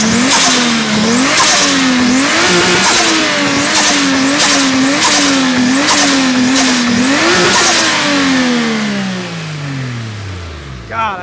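A modified Toyota Supra engine fires up and revs loudly and repeatedly in a steady series of blips, then its note falls away as the revs drop near the end.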